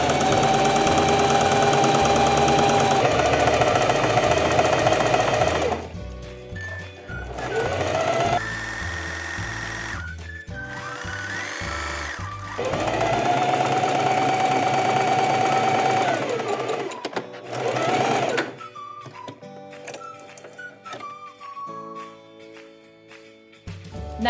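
Sewing machine stitching down a fabric tube for a scrunchie, its motor running in loud sustained bursts of rapid needle chatter, pausing and restarting, with steady background music throughout.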